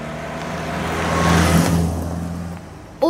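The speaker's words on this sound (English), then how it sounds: "Oh, a car." A car drives past on a road, its engine swelling from a distant hum to a close, louder rush and then fading away, with a brief voice at the very end.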